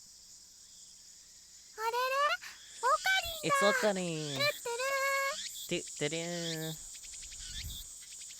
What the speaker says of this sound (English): I can hear the chirping of cicadas from the few trees growing here.